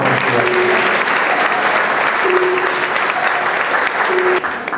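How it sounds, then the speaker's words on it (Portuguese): An audience gives a sustained round of applause for a local recreational association's sports team at a season presentation, loud steady clapping filling the room with brief voices underneath before it tapers off. "Um forte aplauso para esta aqui nossa equipa."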